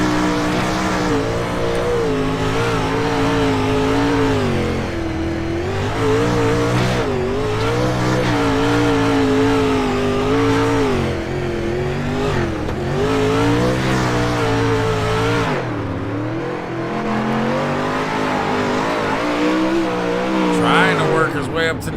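Onboard a purple number 15 race car, the engine screams loud and close throughout a race, rising and dropping in pitch through gear changes and corners, with commentary voices over it.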